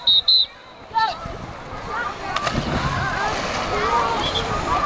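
A boy drops off a low diving board into a swimming pool, giving a splash followed by steady sloshing and churning water, while voices and crowd babble carry on around the pool.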